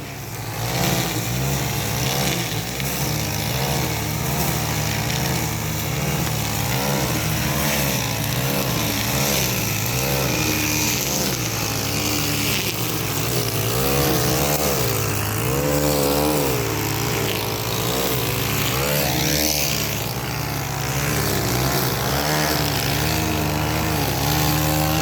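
Small two-stroke engines of string trimmers buzz loudly and continuously through a backyard race, their pitch wavering and surging as the trimmers are pushed around posts.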